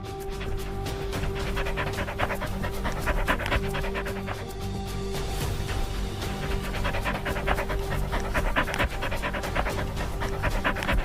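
A Malinois search and rescue dog panting rapidly and rhythmically, close and steady throughout, over a faint constant hum.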